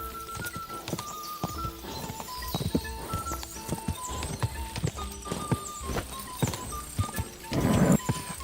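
Horse galloping in the video game Kingdom Come: Deliverance 2, steady clip-clop hoofbeats close by, with game music tones behind and a brief louder rustle near the end.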